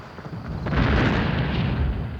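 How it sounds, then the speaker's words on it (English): Artillery fire during fighting between Japanese troops and retreating British forces near Hong Kong: a deep, rumbling boom swells in after a muffled start and rolls on loudly to the end, heavy and close, with no voices. "Soon there was an artillery duel with the retreating British."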